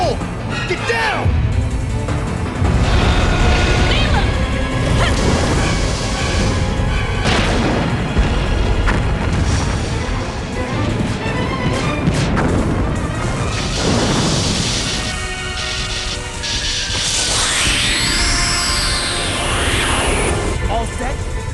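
Explosions in the Dino Crisis video game: loud, heavy booms and crashing impacts recur throughout a dense, noisy stretch, with a sweeping, whistling whine rising near the end.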